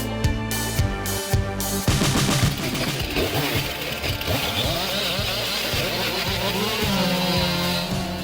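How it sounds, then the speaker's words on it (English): Stihl chainsaws, an MS400 and a 462, run loud and close at a tree-cutting competition, revving hard with a rising and falling whine and a dense buzz that carries throughout with no pauses. "This is a fun chainsaw competition where the Stair MS400 and the Stair 462 will be put to the test"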